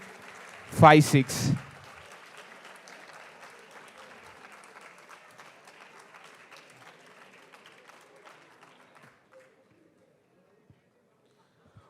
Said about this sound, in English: Can we have a round of applause, guys?